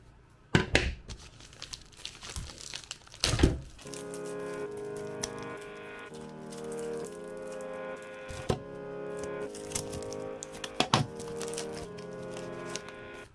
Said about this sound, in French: j'ai pris un ciseau et là je vais couper ici.